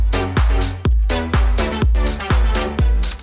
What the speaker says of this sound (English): it's this very much kind of future house envelope synth